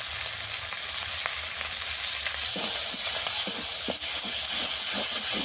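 Ginger paste, turmeric and chilli powder with a little water sautéing in a pan, a steady hissing sizzle that grows louder midway, with scattered stirring clicks.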